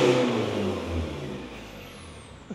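A 1.9 DDI engine in a pickup truck with a raised front and slightly lowered rear revs up loudly, then its roar gradually eases off over a couple of seconds, heard alone without talk.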